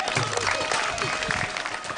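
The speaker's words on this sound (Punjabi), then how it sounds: "ਲਾਓ ਤਾੜੀਆਂ ਪਿੰਡ ਦੇ ਨਾਮ ਤੋਂ" An audience at a village show in Hathur, Punjab, breaks into a brief burst of dense clapping, with voices mixed into the applause.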